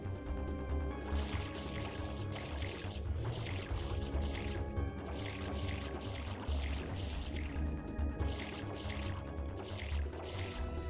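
Water spraying from the nozzle on a boat in the video game Super Mario Sunshine, a dense gushing and splashing rush in repeated bursts with faint engine-like hum beneath, no talking.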